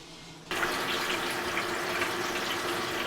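Water rushes steadily into a Wonderwash portable washer, starting abruptly after a short quiet moment and continuing as a bright, even pouring hiss.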